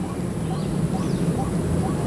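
A white-breasted waterhen calls from atop an oil palm trunk near a plantation, giving short repeated hoarse notes against steady background noise.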